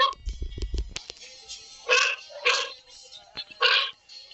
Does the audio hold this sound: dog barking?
yes